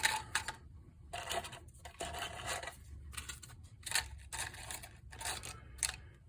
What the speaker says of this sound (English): we're just going to take a dried lemon, whack it into the herb grinder